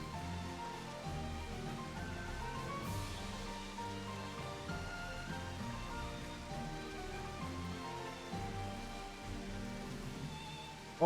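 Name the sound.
rain on cracked window in video game Final Fantasy XIV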